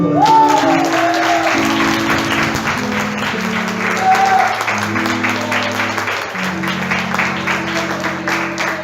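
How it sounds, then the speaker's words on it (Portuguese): A congregation claps along at a Protestant church service as music plays, an organ or keyboard holding chords beneath a steady, fairly loud patter of many hands. "Você pode aplaudir o Senhor."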